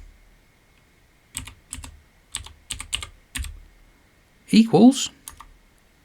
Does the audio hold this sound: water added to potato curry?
no